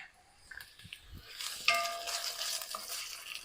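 Six cloves of minced garlic drop into hot oil in a pan for green beans, starting quietly and then rising into a steady bright sizzle, close and without talk.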